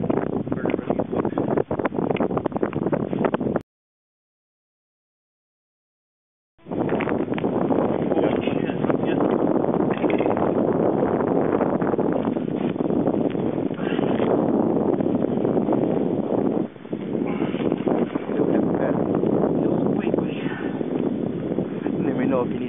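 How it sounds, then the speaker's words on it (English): Strong gusty wind at about 25 miles an hour on a frozen lake during brutally cold ice fishing. It roars and buffets the microphone continuously, cut by a brief silent gap. "25-mile-an-hour wind"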